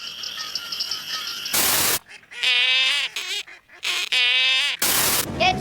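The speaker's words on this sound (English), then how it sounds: "I hear just a green tree frog, squirrel frog. Well, I think it's a leopard frog and a southern toad." A chorus of green tree frogs, squirrel frogs, leopard frogs and southern toads, close and loud, with bursts of reedy, quacking calls broken by sudden harsh broadband noise bursts.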